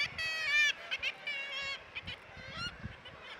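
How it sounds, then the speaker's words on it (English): A kittiwake, a small coastal gull, gives a series of nasal, honking calls, several short bursts in quick succession that stand out clearly against quiet background rustle. "Their name is inspired by the call they make, which really does sound like kittiwake."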